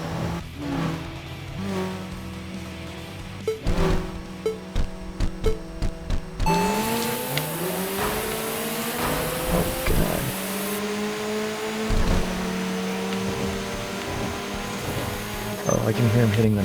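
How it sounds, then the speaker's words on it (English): Racing engines in Tokyo Xtreme Racer (2025), with revving, gear-shifting whines and a rising boost surge from a rival car behind, loud and continuous under game music, with a voice talking over parts of it. "Oh, I can hear him hitting the nitro back there"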